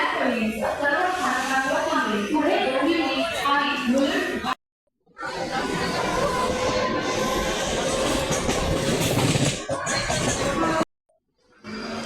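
A train rumbles and roars past at close range as it arrives at Neral station, amid crowd noise and people talking, with brief cuts of near silence between stretches.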